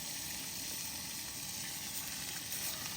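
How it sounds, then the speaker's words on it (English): Fish frying in a pan at an evening roadside stop gives a steady, dense sizzle that runs without a break, fairly faint, with no voices. "I got him frying some fish for us tonight."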